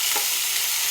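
Onion, green chillies, tomato, cinnamon, cloves, ginger, coriander, mint and kasuri methi fry in oil for chicken biryani, giving a steady, loud hissing sizzle with no distinct stirring strokes and no voices.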